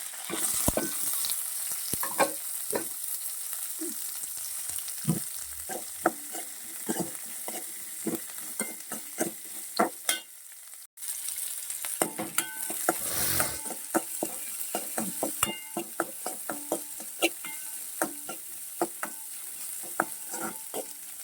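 Mustard seeds and curry leaves frying in hot oil, giving a steady close-up sizzle full of rapid popping and crackling that runs almost the whole time, with one brief dropout near the middle.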